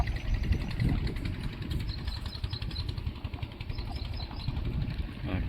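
A tractor engine runs steadily with a laser leveler fitted, a continuous close low rumble with rapid pulsing and no pauses, out on farmland being levelled.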